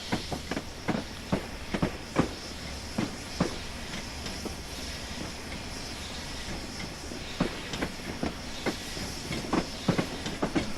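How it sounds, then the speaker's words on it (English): The Flying Scotsman steam locomotive runs back down the line between Pickering and Grosmont, with a steady rhythmic clickety-clack of wheels over rail joints under a continuous hiss, fairly close and alone. "we're going to have a quick look at the Flying Scotsman coming back down the line"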